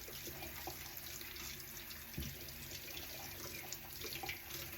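A tap runs steadily into a sink while soap is rinsed and paint is worked out of brush bristles, giving a soft, even splashing hiss throughout.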